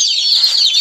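Broiler chicks peeping loudly and continuously at close range, a dense chorus of high, wavering chirps.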